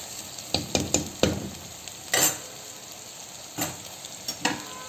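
Ingredients fry in a pan with a soft, steady sizzle, punctuated by repeated scraping and tapping stirs that come in short bursts, fairly close.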